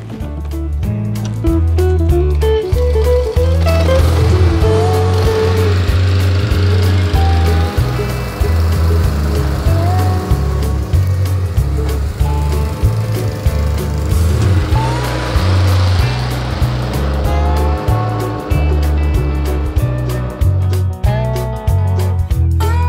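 A lawn mower cuts spring grass in a yard before dethatching, its engine droning steadily and close throughout, with small shifts in pitch as it moves.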